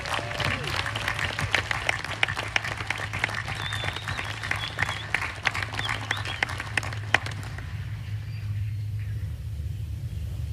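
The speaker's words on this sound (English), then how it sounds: "please join me in a round of applause for our Student Award recipients." Applause from a large crowd at an Army War College graduation ceremony rolls on for about seven seconds, dense clapping over a low rumble, then quickly thins and fades away.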